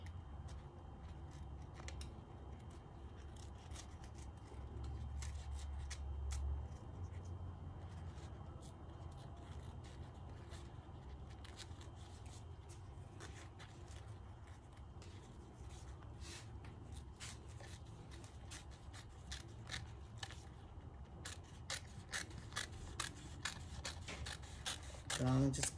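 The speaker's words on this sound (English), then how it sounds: "So I'm gonna just cut the edge of this" Scissors snipping through material in a quiet indoor space, a series of faint irregular cuts that grow more frequent and louder toward the end.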